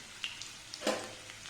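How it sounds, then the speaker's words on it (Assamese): Onions frying in oil in a wok for homemade pulao, heard as a faint, soft sizzle with a few light stirring scrapes and a brief louder burst partway through, no voices. "এতিয়া এইখিনি ৰঙচুৱা হোৱালৈকে ভাজি থাকিব"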